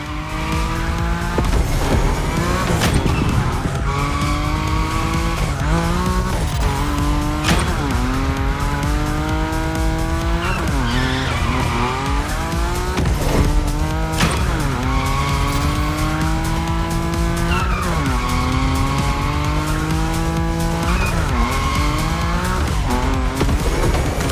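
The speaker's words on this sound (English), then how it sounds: "Your Nismo is powerful enough to slide along on its own when you're at high speed" A Nissan Nismo car in The Crew Motorfest sliding at high speed, its engine droning loud and close as it revs up and down through repeated shifts, with tire squeal and skidding, no talking.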